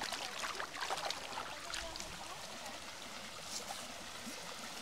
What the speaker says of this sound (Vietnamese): Nè các bạn thấy suối chảy nè.